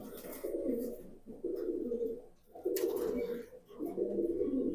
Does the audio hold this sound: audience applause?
no